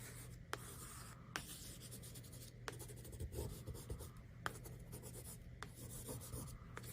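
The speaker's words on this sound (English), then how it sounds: "I do like to start with pencil, so I'm just gonna start making marks in these." A pencil scratches and rubs across art journal paper in close, quiet strokes, with a few sharp taps as the tip lifts and lands; no one speaks.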